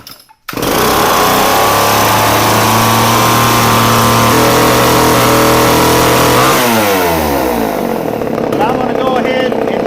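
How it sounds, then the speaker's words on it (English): A Homelite gas engine, a 62cc two-stroke on a small outdoor power tool, sputters to life after a brief quiet start and then runs loud and close, revving up and dropping back with rising and falling pitch for the rest of the clip. "So let's fire this Homelight up."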